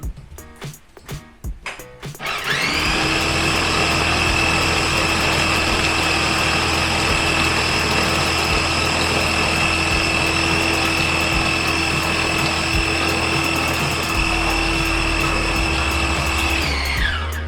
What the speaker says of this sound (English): the food processor is not gonna give you a fine texture